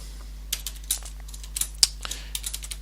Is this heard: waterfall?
no